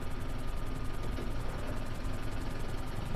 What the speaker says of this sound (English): is that helicopter crashing or something?